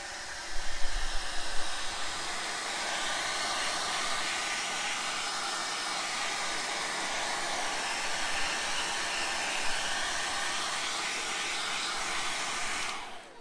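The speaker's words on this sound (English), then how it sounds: "I'm just going to use a hairdryer" A hair dryer blows steadily at close range drying wet leather shoes, a continuous broadband whoosh running almost unbroken before cutting off at the end.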